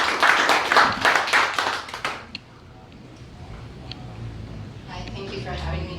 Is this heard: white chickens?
no